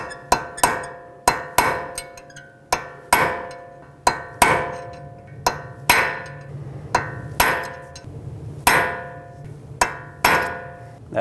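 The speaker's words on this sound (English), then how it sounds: "take a punch or a chisel bit and a hammer and just punch it down a little bit" Sharp metallic hammer blows land on a punch, peening over a nut on the front hub of a 2012-2017 Toyota Camry, a dozen or so ringing strikes in an uneven rhythm, close and loud.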